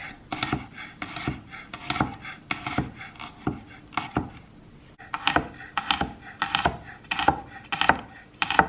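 A knife slicing peeled garlic cloves thinly on a cutting board, a steady series of crisp close taps in quick rhythmic runs, with no speech.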